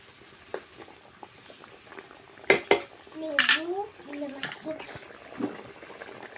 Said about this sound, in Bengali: জলটা ফুটে উঠেছে এবার আমি ভেজে রাখা মাছগুলো দিয়ে দিলাম